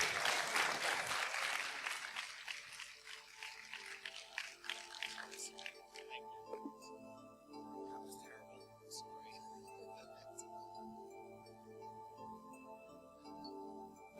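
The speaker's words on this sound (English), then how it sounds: "One more round of applause for the BronyComms guys." A convention audience at PonyCon AU 2013 claps loudly and densely at first, then the applause thins into scattered claps and clinks under a lingering room hum.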